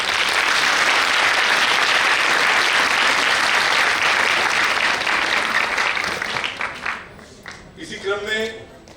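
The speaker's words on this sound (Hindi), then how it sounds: "ये सभागार आपकी तालियों से गूंजना चाहिए" Loud applause from a large audience fills a hall at a Hindi poetry show, sustained for several seconds before fading out, with a voice beginning to speak at the end.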